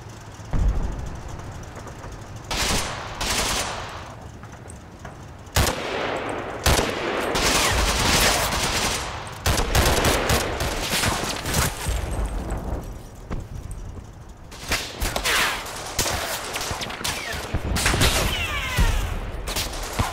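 Gunfire and machine-gun bursts from a WWII tactical battle in Combat Mission: Battle for Normandy, with repeated loud volleys and rattling automatic fire that comes in clusters and continues almost steadily, with no talking.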